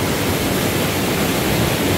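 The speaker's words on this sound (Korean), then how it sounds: "뭐 폭포 아닌 폭포가 형성이 돼 있어요." Rushing water tumbles over giant boulders blocking the Hwaaksan valley stream, forming a small falls; a loud, steady broadband roar close by with no pauses.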